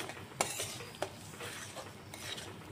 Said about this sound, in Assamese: চুজিখিনি অলপ টাইম ভাজি ল'ম।